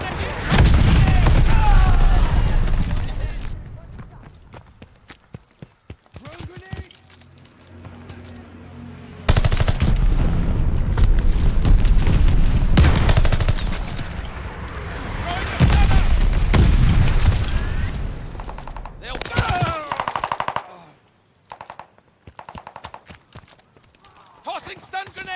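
Gunfire bursts and blasts from a Call of Duty MW2 match, including a thrown stun grenade, come in loud stretches with quieter gaps between, while a player talks over the action.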